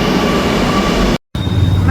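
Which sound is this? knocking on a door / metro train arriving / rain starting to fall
metro train arriving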